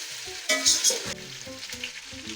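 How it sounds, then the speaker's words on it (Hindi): White cumin seeds frying in a pan for a chicken biryani: a loud burst of crackling sizzle with spattering pops, then a steadier sizzle under intermittent knocks of a spoon or utensil against the pan, no talking. "1 टेबलस्पून सफ़ेद ज़ीरा और 1 से 2 मिनट तक इसको मैं फ्राई करूँगी"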